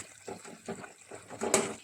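Water is swirled with leftover ground masala in a mixer jar and poured into a pan of chicken sukka, giving a few short, quiet splashes and gurgles close by.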